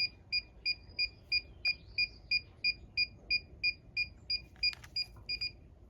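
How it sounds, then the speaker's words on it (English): Drone receiver on a GEPRC MOZ7 quadcopter emitting a steady series of short, evenly spaced electronic beeps during binding, about two per second, close and clear over faint background hiss. "Press and hold this until you hear it beep, about 5 seconds."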